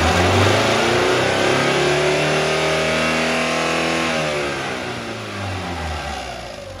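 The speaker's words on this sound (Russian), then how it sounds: "Работа двигателя 5000 оборотов." An Isuzu engine for a 1998-2004 Rodeo revs high and steady at 5000 rpm, loud and close, then the pitch and volume ease downward toward the end; no voices.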